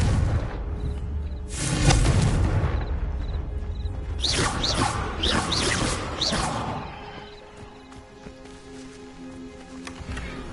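An explosive Confringo spell is cast in the video game Hogwarts Legacy: a swelling magical whoosh gives way to a deep boom with sharp crackling bursts, then the blast fades into quieter game ambience.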